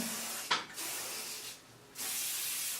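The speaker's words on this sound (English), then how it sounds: "hairspray my hair" Hairspray misted onto freshly curled hair: a sharp hiss bursts out, then a long steady spray, a short pause, and another sustained spray, close and fairly quiet.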